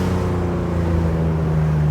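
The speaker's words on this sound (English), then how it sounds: "So you hear an enormous amount of induction and exhaust, more of the latter on the overrun, more of the former when it's under throttle." A Theon Design Porsche 911 Targa resto-mod with a 407 bhp flat-six, individual throttle bodies and a plenum gives a steady, loud engine drone of induction and exhaust, heard from inside or close by.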